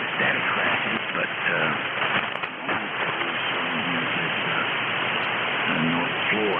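Amateur radio static on a noisy evening band: a steady wash of hiss and crackle fills the whole clip, with faint, garbled voice fragments buried in the noise.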